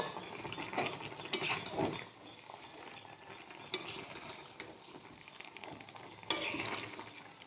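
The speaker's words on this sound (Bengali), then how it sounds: "ঢাকনা তুলে একে একটু উল্টে পাল্টে" Pumpkin and Malabar spinach are stirred and turned in a cooking pot after the lid is lifted, giving faint, irregular scraping and clattering bursts over a low simmering background.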